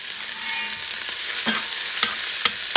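Onion and turmeric frying in a pan for Persian chicken stew make a steady hiss, broken by a few sharp scrapes and taps as a utensil stirs them, close and with no talk.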